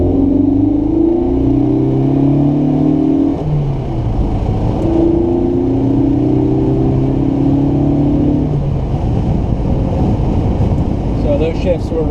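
A Volvo P1800 accelerates hard on a road, its engine rising through rising tones, then dropping at two clear gear shifts before pulling up again, loud and close under heavy wind rumble.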